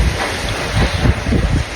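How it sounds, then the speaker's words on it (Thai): Dry wind gusts loudly across the microphone, a steady roaring buffet with low rumbling surges throughout. "ลมแบบแห้งแห้งอย่างนี้ครับ"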